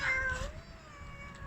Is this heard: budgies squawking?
no